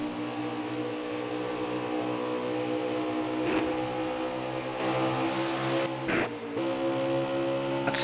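Stock cars racing at Kansas in a racing video game, a steady droning engine whine from several cars held at high revs, with brief louder swells as cars pass close.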